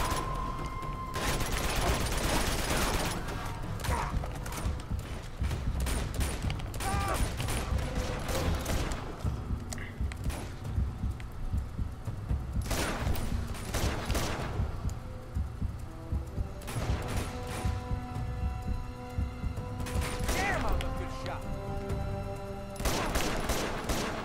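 Bursts of gunfire from the video game Uncharted 2: Among Thieves, coming in repeated clusters of rapid shots at a modest level over a steady low rumble, with no talking.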